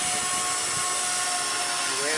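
A small 3D-printed RC helicopter flying in a crosswind, its motor giving a steady high-pitched buzzing whine, close and continuous, with a voice partly heard underneath.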